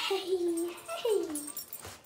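A puppy whimpers in two high, drawn-out whines, the second rising then falling, close and fairly soft, with a brief yip at the end.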